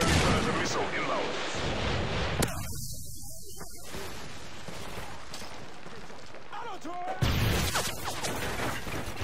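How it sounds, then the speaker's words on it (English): A Predator missile strike in Call of Duty Modern Warfare 3 multiplayer lands as a loud, sustained explosive roar, with a cutout midway and another burst of blast noise near the end; game voices are faintly mixed in. "Predator missile inbound."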